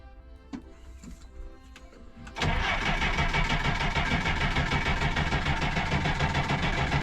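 A car engine cranks on the starter motor and catches, jumping to a loud, steady running roar after a couple of seconds of quieter clicks and low rumble, with no talk.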